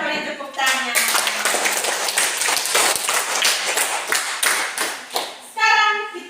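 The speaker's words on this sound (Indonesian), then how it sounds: "Mari kita beri tepuk tangan." A classroom of children clapping hands together, a dense burst of close claps running several seconds with voices of kids and a teacher speaking at the start and end.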